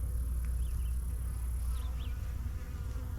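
Honey bees buzz in a steady, dense drone around an open beehive during an inspection, with a few single bees whining past nearby. No one speaks.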